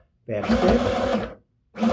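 A sewing machine runs a back stitch on a red cotton skirt, a short burst of steady whirring followed by a brief pause and a restart, with a voice talking over it.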